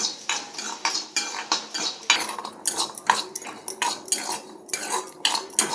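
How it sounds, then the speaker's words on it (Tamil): Repeated rhythmic scraping and clanking of a metal utensil stirring chopped garlic in a pan, close and busy, with a faint frying hiss underneath. "இது நல்லா பச்சை வாசம் போக வறுபடணும்"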